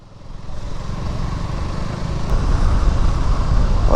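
A motorbike on a road approaches, its engine rumble growing steadily louder and closer over the few seconds.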